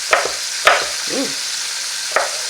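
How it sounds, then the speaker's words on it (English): Green bell peppers chopped roughly on a board with a knife, three sharp separate knocks spaced through a quiet kitchen, with a brief soft scrape between them. "It might be a little noisy, but hey, I'm rough chopping."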